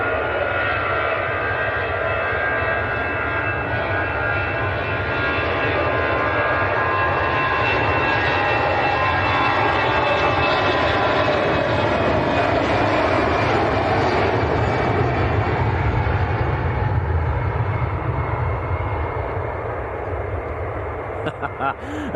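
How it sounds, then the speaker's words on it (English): EasyJet airliner departing Manchester Airport for Jersey, a sustained heavy engine roar that swells through the middle and eases slightly at the end, with people talking over it. "EasyJet to Jersey."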